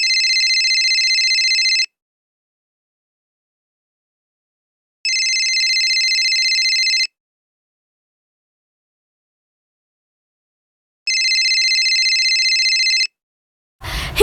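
An old telephone rings in a radio drama in three loud, evenly spaced two-second bursts separated by silence, followed by a brief burst of noise at the end.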